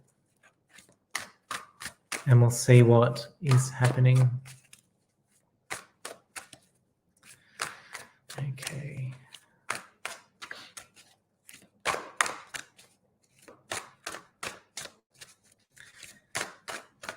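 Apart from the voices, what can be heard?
shuffling a deck of cards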